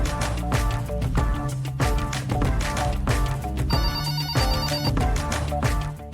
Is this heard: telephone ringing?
yes